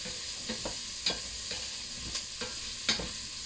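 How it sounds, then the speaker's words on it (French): A spoon stirs spinach with shrimp and mussels in a hot pan, giving a soft steady sizzle with a few distinct scraping strokes at intervals, fairly quiet and with no talk. "Et je remue."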